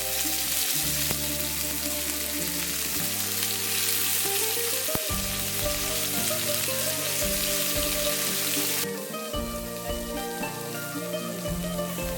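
Greek chicken skewers sizzle continuously as they are pan-seared, a loud, steady crackle with faint tonal hum underneath.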